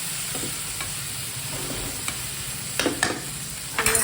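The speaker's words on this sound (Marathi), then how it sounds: "आणि आता डाळ टाकूया हरभऱ्याची डाळ छान परतून घेऊया डाळीला" Chana dal (split chickpeas) sautéing in a pan for dhemshi bhaji: a steady close sizzle with scattered spatula scrapes and stirring clicks that grow louder near the end, no talking.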